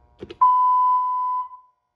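A quiz lockout system sounds one steady, clean electronic beep of about a second when a contestant's button is pressed, following a couple of faint handling clicks, with no talking over it.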